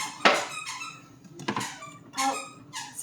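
A puppy plays with a new squeaky toy, giving several sharp, bright squeaks in quick irregular bursts, close by and fairly faint with no talk.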